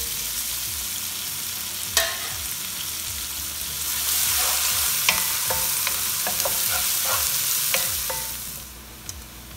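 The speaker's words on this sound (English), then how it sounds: "That's when you add the onion. And saute the onion a little bit" Chopped onion sautés in a hot pan for a dal makhani, a steady sizzle broken by scrapes and clinks of a stirring spoon, growing louder midway; no voices.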